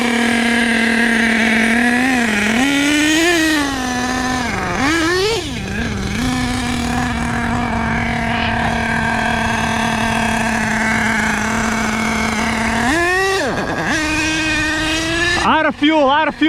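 A stock HPI Savage XL K5.9 nitro RC truck engine screams loudly and steadily, dipping and surging in pitch several times before sputtering and stuttering as it runs out of fuel near the end.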